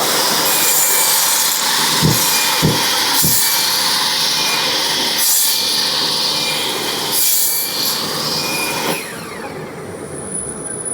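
A table saw ripping through wood at a woodworking trade fair, a loud continuous cutting roar with a few knocks as the board feeds, then the blade spinning down near the end.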